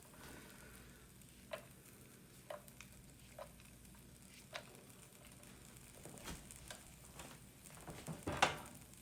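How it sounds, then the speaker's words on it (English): Potatoes frying in a pan alongside bagels at breakfast, a faint steady sizzle with a few sharp taps and clicks of a utensil, building slightly louder toward the end. "Also gives the potatoes more time to spread out in the pan, cook more evenly."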